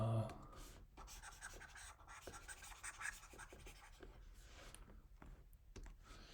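During a statistics lecture, faint, close marker or chalk strokes scratch across a board in short irregular bursts with small taps between them, quiet and roomy, with no clear speech.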